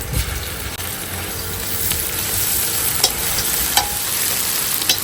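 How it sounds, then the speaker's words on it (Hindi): Garlic added to onions already frying in cooking oil in a backyard pan, giving a steady, dense sizzle close by with a few light spoon clicks and scrapes and no talking. "लहसुन डाल दूंगी।"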